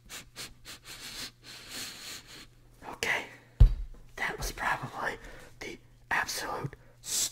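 A whispering voice imitates a sniffing sound with a rapid series of short, breathy bursts, close and soft, during a mock cranial nerve smell test.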